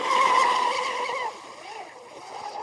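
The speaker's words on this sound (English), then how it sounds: "I love when that prop gets out of the water. Really screams then." A Traxxas M41 Widebody RC boat's motor screams in a high, whining tone as the prop lifts out of the water in a cove, loud at first and then fading as the boat runs off.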